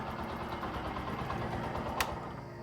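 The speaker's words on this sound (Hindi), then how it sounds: "मुझे इसका इंजन साउंड थोड़ा सा बेसी लग रहा है" A Bajaj Platina motorcycle idles just after starting, a steady close chugging engine hum with one brief sharp click partway through.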